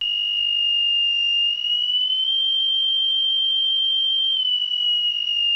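An electronic buzzer from a ВП-1 squeaker circuit gives one steady, high-pitched beep. It is loud, close and unbroken for the whole stretch, with no voices.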